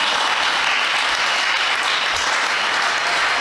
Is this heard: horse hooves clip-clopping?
no